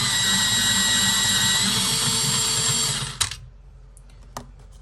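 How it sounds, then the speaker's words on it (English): A coloured pencil is held in a pencil sharpener, producing a steady close motorised whir for about three seconds, then a sudden stop and a couple of light clicks and taps. "So I'll give them a bit of a sharpen."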